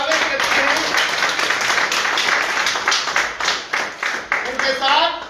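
A political gathering applauds newly joined leaders with loud, close clapping that starts as a dense wash and breaks into rhythmic, separate bursts near the end, with voices mixed in.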